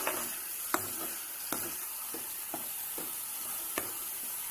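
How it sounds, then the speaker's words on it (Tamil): Ginger garlic paste sautés in a pan for a masala puri chaat in a steady soft sizzle, broken by a few sharp scrapes and taps of a spoon stirring against the metal. "இப்போ இந்த இஞ்சி பூண்டு பேஸ்ட் வந்து நல்லா வதங்கிடுச்சு."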